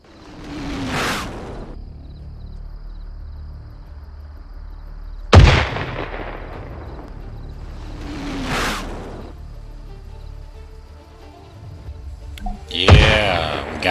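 Video game artillery called in on enemies: incoming shells whoosh down and burst in heavy booms, three spaced impacts followed by a final louder blast, loud and close with no voices.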